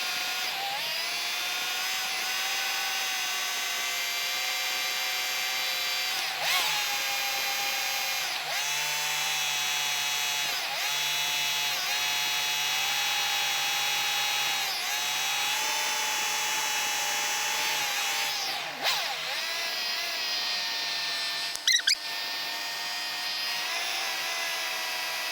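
A car engine is held at a steady fast idle around 1500 rpm during a SeaFoam treatment, giving a constant high whine and hum with a few brief clicks and knocks, no voices.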